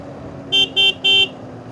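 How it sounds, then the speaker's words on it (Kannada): A motorcycle horn beeps three times in quick succession, short bright toots with a slightly longer final one, loud and close over low engine and traffic rumble on a highway ride. "ನೋಡಿ ಹಿಂಗೆ ಪದೇ ನಾನು ಹಾರನ್ ಮಾಡ್ತಾನೇ ಇದ್ದೀನಿ."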